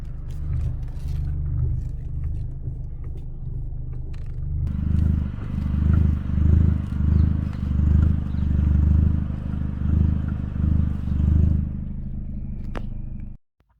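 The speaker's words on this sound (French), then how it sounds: "quand je braque le volant pour que vous puissiez voir les claquements" Low rumbling noise from a Volkswagen Golf with a series of rhythmic dull clunks and knocks from the worn front suspension as the steering is turned, repeating roughly every second for several seconds.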